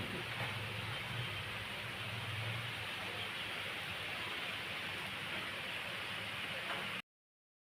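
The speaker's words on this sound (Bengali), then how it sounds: "শুরু হয়ে গেছে বৃষ্টি" Soft, steady hiss of rain starting to fall, continuous and even for about seven seconds before abruptly cutting to silence; faint and distant, with no talking.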